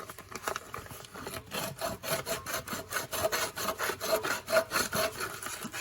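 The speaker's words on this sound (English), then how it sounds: "I tried some coarse sandpaper" Coarse sandpaper rubbing back and forth on a small part in quick, even rasping strokes, close and moderately loud with no talk.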